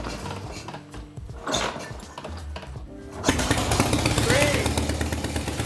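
A Harley-Davidson motorcycle engine is kicked over a few times and then catches, settling into a loud, close, rumbling idle, with brief talk over it.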